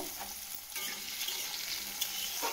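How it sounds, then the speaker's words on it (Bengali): Small chopped potatoes fry in a pan, a steady close sizzle with light stirring scrapes, all alone without talk. "আলুগুলো ভালো করে ভাজা করে নেব"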